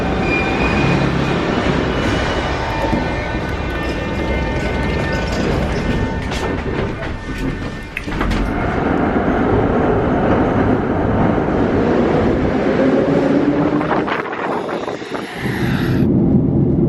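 A Moscow metro train running steadily and loud throughout, with a continuous rumble and rail clatter, a few brief squeals near the end and no talking.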